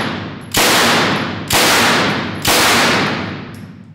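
A Sten submachine gun fires three loud, close bursts, each a sharp crack that rings and decays for about a second before the next one.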